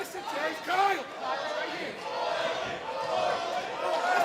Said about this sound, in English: You can hear this sold-out crowd here at the Knoxville Convention Center